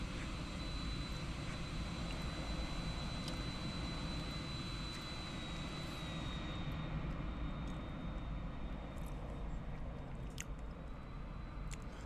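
A Boeing 787-9 in Microsoft Flight Simulator taxis toward the runway at Portland, its jet engines holding a steady even whine and rumble, with faint clicks over the continuous drone.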